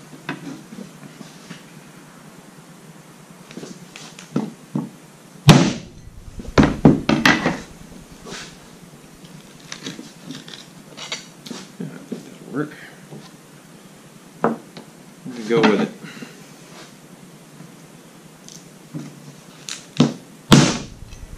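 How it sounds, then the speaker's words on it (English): A meat cleaver strikes goat meat on a cutting surface to split it into chops, with several loud, sharp thunks spaced irregularly among quieter handling sounds while someone talks. "I'm going to take my meat cleaver and I'm going to try to cleaver these on"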